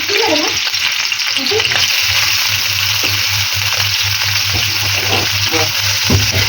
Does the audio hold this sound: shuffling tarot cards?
no